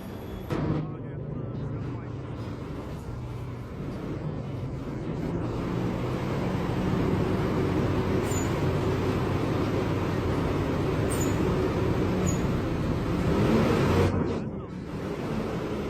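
A 900-ton crane truck reverses with its chassis raised and differential lock engaged during a heavy lift, giving a heavy, steady diesel drone and rumble that swells slightly near the end, with background voices at times.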